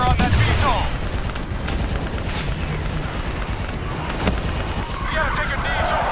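Sustained heavy gunfire and explosions from a Call of Duty Black Ops 3 battle against a VTOL and infantry on Xbox roar continuously, with voices shouting over the din.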